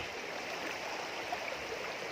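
Floodwater of the Mun River overflowing a bridge after a storm rushes steadily, a broad continuous hiss of moving water with no voices, moderately close and fairly soft.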